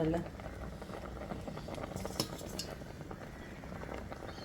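A pot of sweet payasam with jaggery and banana boils steadily, a soft continuous bubbling with faint clinks of a utensil, under talk.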